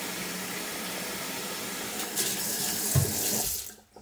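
A small tap pours a steady, close stream of water into a sink, with a brief splashing surge before the flow is shut off near the end.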